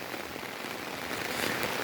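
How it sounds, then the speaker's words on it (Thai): Steady rain falls during flooding in Narathiwat, Thailand, a dense, even patter on surfaces that holds at a constant level throughout without any voices. "แต่ตอนนี้ฝนก็ยังไม่หยุดตกทีนะครับนะ ฝนก็ยังตกเรื่อย ๆ อยู่"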